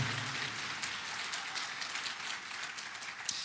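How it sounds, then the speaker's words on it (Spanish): Church congregation applauding the Lord during a Spanish sermon, a steady wash of many hands clapping at moderate distance with no talk over it. "un aplauso al Señor"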